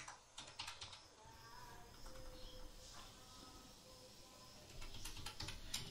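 Code being typed on a computer keyboard, with steady, fairly quiet key clicks in bursts and some background hiss throughout.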